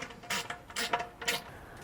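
Fender bolts on a Jeep JK Wrangler aluminum front fender being tightened with an Allen driver and wrench, three short ratcheting bursts in quick succession, close and moderately loud.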